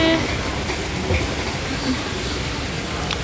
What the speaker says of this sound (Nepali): यहाँ आउँछ है ट्रेन चाहिँ यहाँ आउँछ